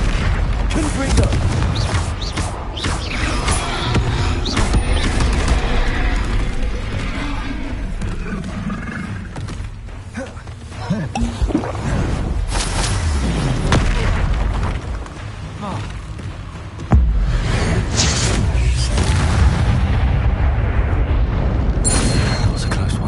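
Confringo spell blasts in Hogwarts Legacy: loud roaring booms and explosive rumbles fill a dense, continuous game soundscape, with a sharp new burst near the end.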